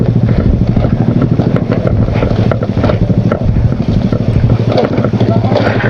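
Geared motorcycle descending a steep downhill road while braking constantly, a loud close engine rumble with steady low throb and wind noise filling the whole stretch.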